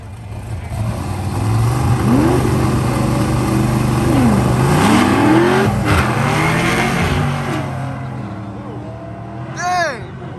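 A supercharged Vortech-equipped Chevy race car accelerates hard down the strip during a test pass at PIR, engine note rising and sweeping through gears, loud and close, with excited people talking over it and a short revving burst at the end.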